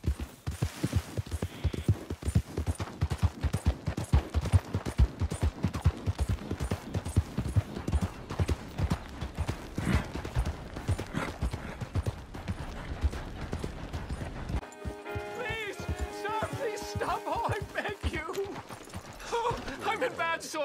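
Horse galloping in Red Dead Redemption 2, a rapid run of hoofbeats close by and steady, giving way near the end to a brief musical sting.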